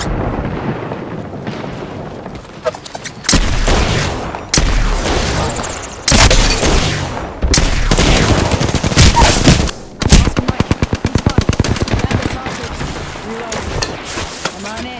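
Enemy gunfire in Apex Legends, with dense automatic bursts and rapid fusillades that come loud and close, broken by brief pauses and starting again in long rattling strings.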